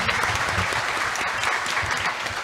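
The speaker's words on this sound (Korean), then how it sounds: "다시 한번 큰 박수 부탁드립니다" An audience claps warmly at a university founding-anniversary ceremony with an award presentation, a dense, continuous round of applause that holds steady throughout.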